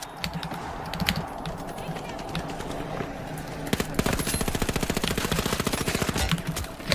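Video game gunfire: an automatic weapon in rapid bursts, with a long fast string of shots near the end, loud and close under a voice talking.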